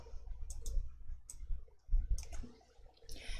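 Mouse clicks in a spreadsheet program, double-clicking a sheet tab to rename it, come in a few sharp, fairly close pairs spread across the short stretch, with low background noise between them.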